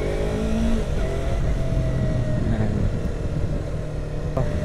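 A Yamaha YZF-R3 sport motorcycle's engine hums and rises in pitch while ridden on the road in third gear, a steady close drone under heavy wind rush, with no one speaking.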